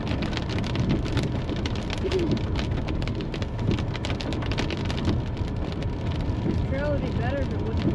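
Heavy rain pours steadily on a Colorado trail, a dense continuous hiss of drops with a few birds calling faintly near the end.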